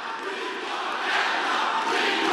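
Large crowd of supporters at a Mississippi rally for Brett Kavanaugh, chanting and roaring in a dense, sustained mass of voices that swells slightly, heard from a distance.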